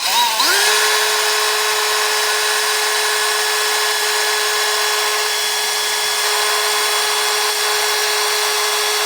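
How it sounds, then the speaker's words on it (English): A power drill bores an inch-deep hole through a wooden raised-bed planter box, spinning up quickly and then holding a loud, steady, high whine for the full length. "Grab our drill, approximately an inch, doesn't have to be exact. And now we'll drill that through."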